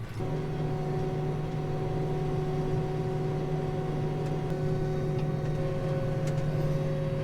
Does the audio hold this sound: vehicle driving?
yes